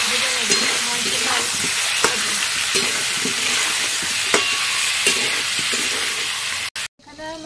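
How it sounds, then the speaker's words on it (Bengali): Chicken meat fries in a pan with a loud, continuous close sizzle and regular clinks of stirring, cutting off abruptly near the end. "ভালো করে ভেজে নেব মাংসটা"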